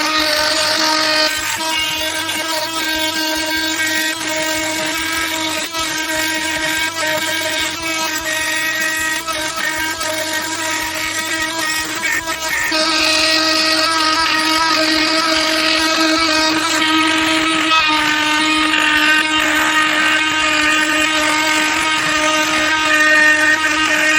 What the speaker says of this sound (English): we're going to use this high-strength carbide oscillating tool blade to finish the job